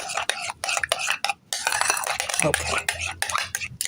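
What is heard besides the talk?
stirring beaten egg in cake batter with a utensil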